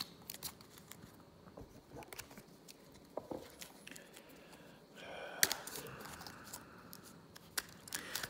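Playing cards for a board game are shuffled quietly at close range, giving soft riffling and patters with a sharper snap near the middle, in an otherwise quiet room.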